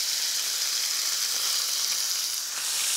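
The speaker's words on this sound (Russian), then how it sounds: "Я сейчас возьму лопатку и обжарю фарш" Minced chicken sizzles loudly in a hot pan, a steady crackling hiss with no voices.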